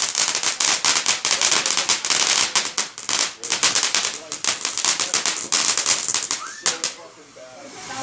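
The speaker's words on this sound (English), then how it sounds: "I hear all the other fireworks, but they're like, you can't see them." Fireworks and firecrackers crackle and pop densely and loudly in rapid bursts, many overlapping explosions through most of the stretch before fading out near the end, with a tall tree nearby.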